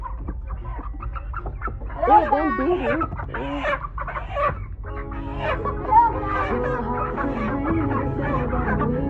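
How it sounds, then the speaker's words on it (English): Chickens cluck and a rooster calls close by at a Jamaican home during Christmas-time chicken killing and plucking, the fowl noises coming in repeated bursts under and between people talking. "pick up the chicken"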